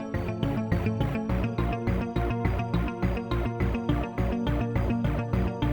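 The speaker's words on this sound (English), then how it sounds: "Then we get some support with a low end," Inside a Cubase electronic track, a low synth bass thumps in a steady repeating rhythm under plucky arpeggiated synths, loud and pulsing evenly throughout.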